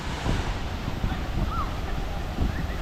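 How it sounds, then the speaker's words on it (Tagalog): A waterfall on Camiguin Island pours heavily, its broad continuous rush filling the scene with steady noise, occasional wind buffeting and faint voices underneath. "Laki nung bagsak ng tubig."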